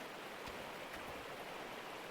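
Water runs steadily into a bucket in the Gold Rush video game, a continuous rushing pour that stays even and alone throughout.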